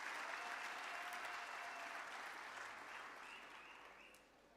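Audience at a G20 social summit closing ceremony in Africa applauds, a dense, continuous clapping from a large crowd that holds steady, then gradually thins and fades toward the end.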